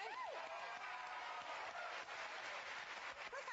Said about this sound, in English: Look how supportive Elisa is being, clapping for you already.